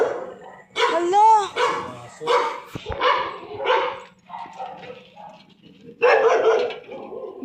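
A small shih tzu stuck and trapped yelps and barks in several short bursts, close and loud, while people talk nearby.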